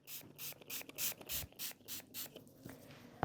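A spray bottle mists a piece of fabric, with about nine short, sharp, hissing bursts in a quick, regular rhythm, close and fairly loud, followed by a few soft handling sounds.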